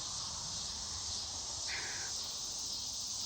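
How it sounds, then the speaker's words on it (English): Crickets buzz loudly outdoors as a constant, dense high-pitched drone that fills the whole stretch, with a brief brighter chirping rise in the middle and no talking. "That buzzing is really loud. What is that, the crickets maybe?"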